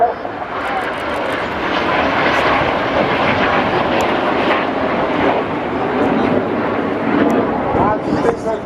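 Red Arrows display jets at the Blackpool air show produce a loud, sustained broadband roar that stays steady throughout, with a voice speaking over the jet noise.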